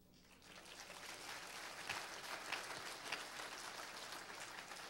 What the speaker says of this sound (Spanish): Los que se bañaron aplaudan.